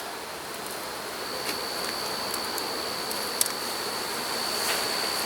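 Honey bees at an open hive hum steadily and close by, a dense, even drone with a few faint clicks and knocks over it.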